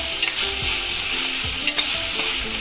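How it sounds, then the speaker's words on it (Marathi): Onion fries in a pan with a steady, loud sizzle while a spoon stirs it with several scraping strokes, and nobody speaks. "कांदा आपण चांगला भाजून घेऊ"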